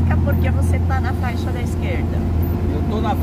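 Car engine droning steadily from inside the cabin while driving in the left lane and overtaking another car, a constant low hum under someone talking.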